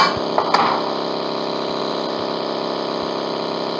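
A tractor engine runs in the mobile game PUBG Mobile, giving a steady, even mechanical drone with a couple of short knocks near the start.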